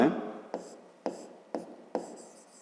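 Pen or chalk strokes write out a math solution by hand, several short scratching sounds spaced about half a second apart, close and fairly quiet.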